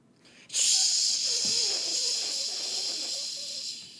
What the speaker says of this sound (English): he releases the steam. Release the steam! Hot.